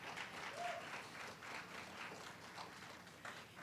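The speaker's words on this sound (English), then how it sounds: "please give another round of applause for all of our speakers." Audience applause at a town hall meeting honouring the speakers, a steady wash of many hands clapping that holds for several seconds with no voices over it.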